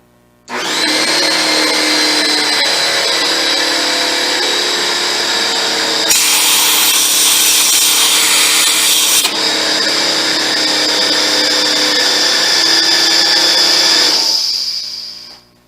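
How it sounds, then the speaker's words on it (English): An air compressor nozzle blows out a freshly drilled threaded hole in a cue, a loud, steady hiss that starts abruptly, surges harsher midway, then settles and cuts off, with no talk. "So at this point I'm going to clean it out, turn the compressor on."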